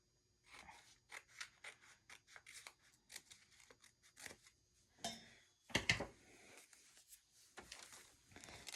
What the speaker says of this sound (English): I'm going to cut that where I folded it.